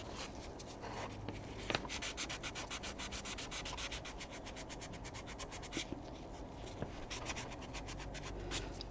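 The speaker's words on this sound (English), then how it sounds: "So if I'm sanding this properly," Someone sands a 3D print for mold prep with quick, even back-and-forth strokes, a dry rasping scrape repeated rhythmically and heard up close, with no talk.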